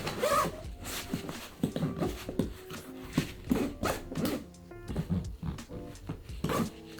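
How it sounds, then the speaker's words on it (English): A zipper on a Nomatic Everyday Carry Bag 25L backpack being drawn closed, giving a run of short rasping pulls with brief pauses between them, close by and fairly quiet with no talk. "I'm trying to zip this up"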